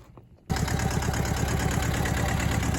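A Massey Ferguson 205-4 compact tractor's diesel engine fires up after a brief quiet moment, then settles into a steady, loud, close idle with an even rhythmic chug.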